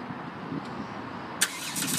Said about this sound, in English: On the key, I do have the remote start.